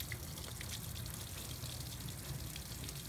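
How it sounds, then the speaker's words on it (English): A Suncast Aquawinder water-powered hose reel winds in a 100-foot garden hose, giving a steady, even rush of running water with no breaks. "So this actually takes water to reel it in."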